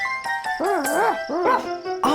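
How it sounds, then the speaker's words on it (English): Several high, bouncy yaps from a cartoon puppy dog, with wavering pitch and gaps between them, close and clear over soft music and without speech. "Woofie the dog, calls Honk."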